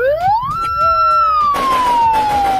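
A police car siren wails up and holds, then slowly slides back down, loud and close, with a burst of broadband street noise joining midway through.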